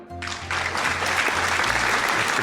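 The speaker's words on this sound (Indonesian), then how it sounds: "jadi yang tepuk tangan ya narasumbernya" People clapping in a podcast studio: after a brief quiet moment, a burst of close, brisk applause starts and carries on steadily over a low background hum.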